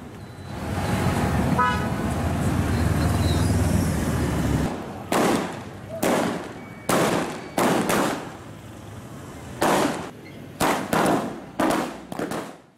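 Firecrackers set off by political party supporters at a street celebration in front of a market in Vavuniya, Sri Lanka: a steady loud rumble gives way to a series of sharp, separate bangs, some in quick pairs.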